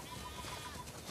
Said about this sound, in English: We definitely have way too many sheep.